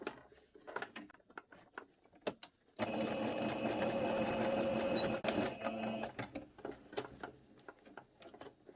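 Sewing machine stitching layered pieces of a two-piece elastic-waist skirt, a steady close mechanical whir of rapid stitching lasting a couple of seconds, flanked by quieter taps and handling noises.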